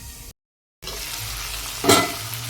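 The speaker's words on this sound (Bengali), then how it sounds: "এই যে মিনিট দুই তিন আমি ভেজে নিলাম আলুটা" Potatoes frying in a pan, a steady close sizzle broken by a brief silent gap, then a louder burst of stirring and crackle before settling back to even frying.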